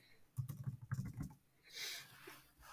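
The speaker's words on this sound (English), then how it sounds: "So just in that search windows, I'm going to type in firewall" A short burst of typing on a computer keyboard, a quick cluster of soft close key clicks, followed by a faint rustle.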